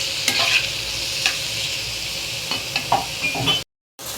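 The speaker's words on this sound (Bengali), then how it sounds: "তেলটা গরম হওয়ার পরেই আমি দিয়ে দিচ্ছি শুটকি এবং কাঁচামরিচ রসুন পেঁয়াজ একসাথে সব কিছু ভেজে দিচ্ছি" Dried fish, green chillies, garlic and onion frying together in hot oil give a steady close sizzle, with stirring scrapes and clinks breaking through before a brief dropout near the end.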